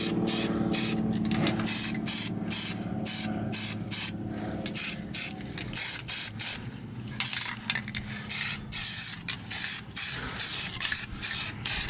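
Aerosol paint sprayed in repeated short bursts onto a car's underside frame, a rhythmic series of close, hissing sprays separated by brief pauses.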